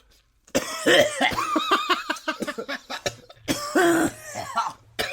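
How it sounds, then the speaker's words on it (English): Several rough, bursty coughs close to the microphone, coming in a quick irregular run after a brief silence, with a second fit near the end. "I'm coughing now too."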